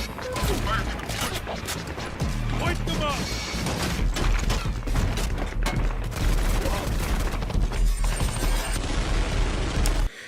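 Light machine gun bursts in a Dawn of War 2 battle, dense rattling automatic fire and booms nearly continuous throughout, loud and layered with other combat noise and music, with a voice talking over part of it.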